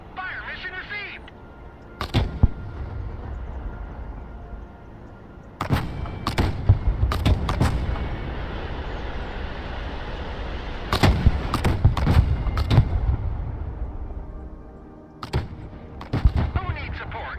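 Artillery fire mission in the video game Broken Arrow: a series of sharp, loud gunfire-like blasts in irregular clusters over a steady rumbling battlefield backdrop, with a voice heard over it.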